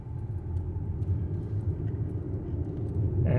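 A 2021 Toyota RAV4 Prime plug-in hybrid accelerating gently, heard from inside as a steady low road and motor rumble that swells slightly toward the end, with no voices.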